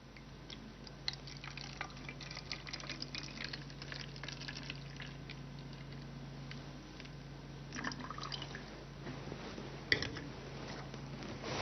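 Water trickling and splashing softly into a bottle in a lab setting, a steady low wash of liquid with faint drips and a few small sloshes toward the end.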